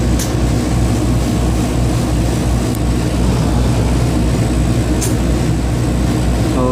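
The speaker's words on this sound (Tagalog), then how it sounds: "Compressor yan, oh." Air conditioner compressor running steadily on a unit whose evaporator is icing up, a loud continuous low mechanical hum and drone with no speech.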